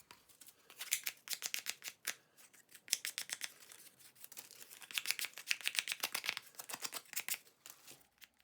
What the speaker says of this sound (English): I am going to sand it lightly with my nail file.